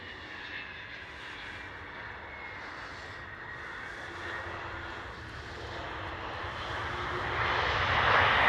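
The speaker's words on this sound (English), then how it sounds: "Now that's the noise you expect a 777" A Boeing 777 at Schiphol airport gives a continuous jet engine roar with a whining tone. The sound swells steadily louder toward the end as the aircraft draws nearer.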